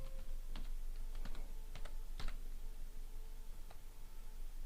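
Keys tapped on a computer keyboard while text is entered in Microsoft Word 2007, a few sparse, distinct clicks over a low steady hum, with no talking.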